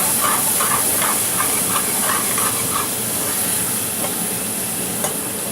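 Red wine poured into a hot pan to deglaze it while cooking Trini Indian chilli chicken, giving a steady loud hiss and sizzle with faint stirring scrapes, and no one speaking.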